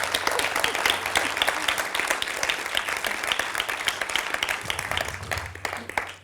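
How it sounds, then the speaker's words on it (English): An audience at the IfBookThen 2013 publishing conference applauding after a presentation: dense, sustained clapping from many hands that fills the room evenly before tapering slightly at the end. "Or applause for Kate?"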